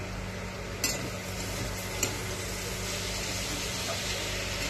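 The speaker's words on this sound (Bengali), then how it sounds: "এদিকে আলু পটল ভাজা বসিয়েছি" Sliced potato and pointed gourd, with bottle gourd peel, fry in a pan with a steady, soft hiss and sizzle, broken by two brief clinks; no one speaks.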